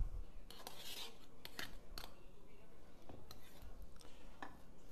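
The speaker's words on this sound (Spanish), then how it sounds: "Y seguimos machacando toda la patata." Hot potato is crushed and mashed in a traditional mortar for ajoarriero, with soft scraping and knocking strokes against the bowl and a few sharper clinks, heard close and fairly quiet.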